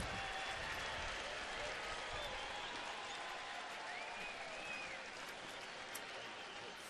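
Hometown Cleveland crowd at a Boston–Cleveland baseball game, a sustained wash of cheering and applause that fills the whole stretch, fading slightly near the end, with faint voices mixed in.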